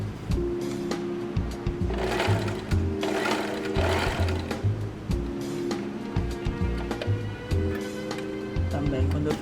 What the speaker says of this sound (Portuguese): Eu vou finalizar aqui costurando esse pedacinho primeiro, sem prender o elástico.